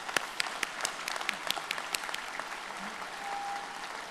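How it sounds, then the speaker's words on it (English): Graduates and guests at a university commencement ceremony give a speaker another round of applause; scattered sharp claps over a softer crowd wash that thins out toward the end. "So let's give him another round of applause."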